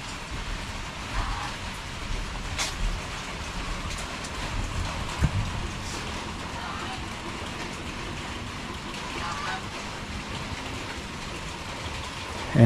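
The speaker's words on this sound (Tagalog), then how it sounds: "Kung ganyan lang ang ulan, walang problema. Hindi siya malakas." Light, steady rain patters on surfaces outdoors at a farm for nearly thirteen seconds, a soft even hiss with scattered louder drops and no voices.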